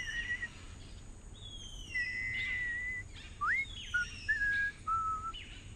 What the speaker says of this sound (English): Oh god, the Data whistle scene.